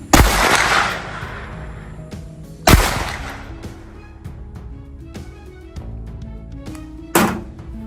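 Hunter Fox 10R rubber bullet pistol fired three times at about seven meters, each shot a sharp loud crack with a short ringing decay, spaced a few seconds apart over a quiet background.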